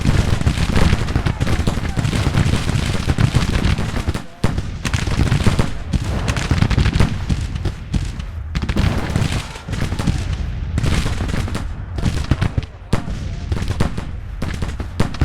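Musket volleys crackle in the Civil War strategy game Grand Tactician, dense overlapping gunfire and distant booms rolling on continuously for the whole stretch, loud and chaotic with brief lulls between bursts.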